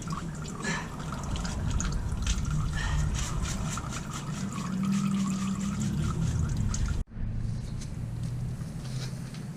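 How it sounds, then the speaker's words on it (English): Old oil drips and trickles out of a car during an oil change, a steady liquid patter close by that breaks off sharply near the end before resuming more quietly. "it looks like the dripping slowed down pretty much to a halt"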